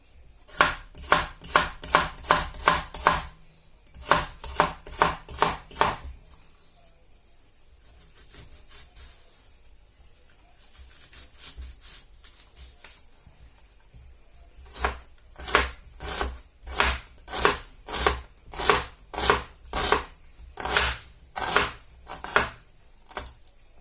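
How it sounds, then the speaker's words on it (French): Rapid knife chopping of an onion on a cutting board, with fast even bursts of blade strikes, a quieter pause in the middle, then another steady run of crisp, close, loud chops. "on va ciseler plutôt l'oignon"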